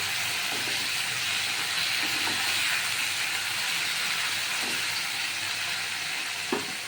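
Chow mein frying in a pan with red chili sauce, a steady broad sizzle and hiss lasting several seconds with a few faint clinks of the utensil, no talking.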